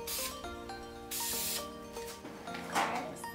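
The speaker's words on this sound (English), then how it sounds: "So just get a piece of cardboard and spray paint and get it done" Spray paint hissing from a can onto cardboard in a couple of bursts, partly buried under background music.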